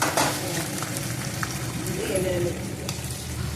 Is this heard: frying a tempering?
yes